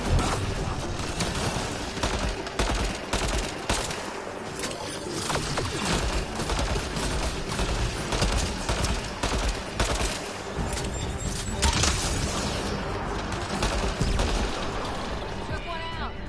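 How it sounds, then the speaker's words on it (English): Automated defense turret firing rapid bursts in the sci-fi game Mass Effect Andromeda, a dense, continuous barrage of shots and mechanical clatter mixed with talking throughout. "Defense systems engaging. Oh, it is shooting."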